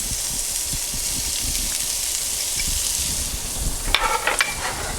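Shallots sizzle in hot fat in a pan, a steady crackling hiss throughout, with a few sharper spits and stirring scrapes near the end; no talking.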